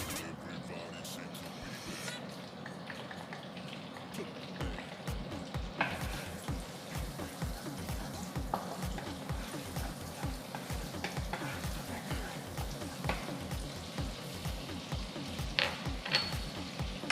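Garlic fries in a pan for buttered shrimp, a steady crackling sizzle with stirring, close and continuous, while a person talks over it.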